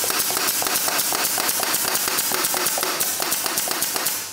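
Compact, low-cost air nailer (air tacker) driving pins in rapid succession, running at 4 to 7 bar, a loud, close, regular train of sharp pneumatic snaps that continues without a break and without talking.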